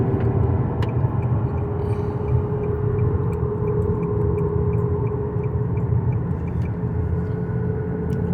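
Steady low rumbling drone from a Nissan Rogue while driving, with constant road noise and a faint repeating tick, loud and continuous inside the cabin.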